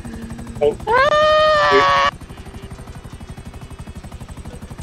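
A plane's engine in Grand Theft Auto V drones steadily with a rhythmic buzzing pulse throughout, while a voice briefly exclaims over it.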